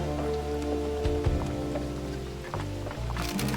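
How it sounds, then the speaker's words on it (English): Rain falls in The Oregon Trail video game, a steady patter of drops on a surface with scattered louder splashes and a faint rolling rumble underneath, heard alone without talk. "Heavy clouds roll in quickly, and soon thereafter they dump the rain, blanketing the trail in water."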